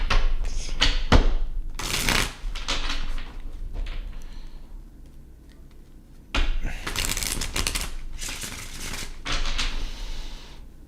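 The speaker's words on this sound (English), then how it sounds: "let's do 2 shuffles" Cards are shuffled in two bursts of rapid riffling and sliding, close and crisp, with a quieter pause between them.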